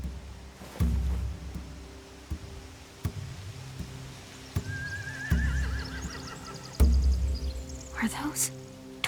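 Horses whinny loudly several times among scattered hoof clops and low ambient hum in a Walking Dead video game scene.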